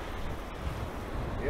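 Ocean waves breaking on a beach, a steady low rushing wash with wind buffeting the microphone, heard close and fairly loud.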